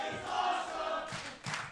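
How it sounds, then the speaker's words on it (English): A wrestling crowd at a Monster Factory street fight roars and cheers in a short, loud swell of massed voices, with a second burst of shouting right after a brief dip. "the crowd showing their appreciation for the offense from both of these men"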